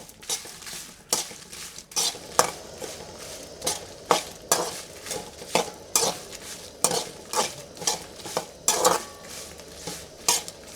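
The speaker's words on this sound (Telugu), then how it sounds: "లైట్గా నూనె వేసి ఇవి కూడా వేయించేసి పక్కకి తీసుకుందాం" Dried red chillies frying in a little oil for a prawn chilli dish, with repeated sharp scraping and stirring clatters of a spatula against the pan over a soft sizzle, close and steady.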